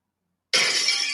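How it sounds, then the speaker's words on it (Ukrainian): Window glass smashes in a single sudden crash after half a second of silence, a loud, bright burst of shattering that trails off into scattered tinkling fragments. "Ми розбили вікно старого Грофі."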